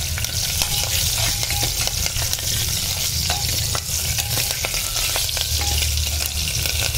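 Whole spices, hing and lengthwise-slit green chillies fry steadily in hot oil, a loud continuous sizzle with faint stirring clicks throughout, no voices.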